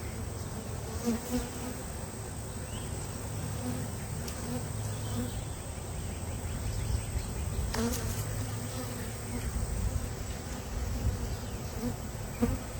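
Honey bees buzz around an open hive frame in a steady, dense hum, with some buzzes passing close. No voices are heard.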